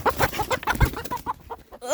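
Farmyard chickens clucking in a mixed pen alongside young turkeys, a run of close, fairly loud clucks and short calls with rustling in between.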